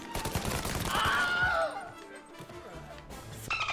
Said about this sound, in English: I guess we shoot him